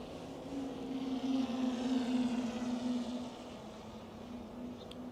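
A DJI Air 3S drone flies straight overhead on a calm day, its propeller whine building to a steady hum and then fading as it passes.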